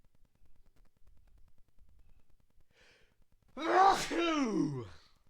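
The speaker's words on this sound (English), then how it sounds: "I'm going to have to sneeze" After quiet breathing, a single loud, close sneeze erupts with a voiced, drawn-out burst that trails off.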